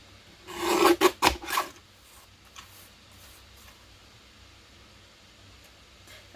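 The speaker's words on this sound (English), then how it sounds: "This one, I do want to trim a little bit around the edges." Paper trimmer blade sliding along the edge of a handmade card, a few quick rasping strokes close up in the first two seconds, then near quiet with faint small clicks.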